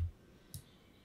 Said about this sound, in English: I'm double clicking into the picture